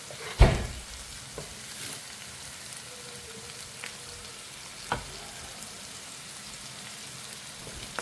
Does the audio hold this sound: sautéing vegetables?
yes